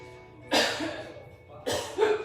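Two short, sharp coughs about a second apart, close by, with quiet breathing in between.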